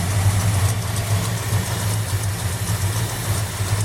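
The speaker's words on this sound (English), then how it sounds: "Get some heat in the motor. It's running good." A 1979 Dodge Magnum with a standby carburetor runs steadily at idle nearby, a loud continuous low rumble with no breaks.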